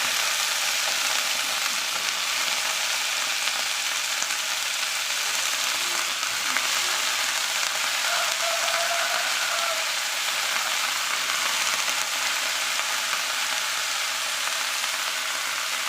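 Radish, broad beans and brinjal sautéing in a pan for sambar, giving a steady, dense sizzle and hiss, close and continuous with no talk.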